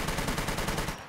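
Gunshots in the SCUM survival video game, a zombie setting: a rapid, loud automatic burst of evenly spaced shots, close and dense, heard alone and cutting off at the end.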